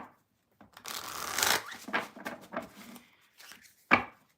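Tarot cards being shuffled by hand in a quiet room, a dense run of papery riffling and slapping that builds and fades over a few seconds, ending in one sharp tap as the deck is squared.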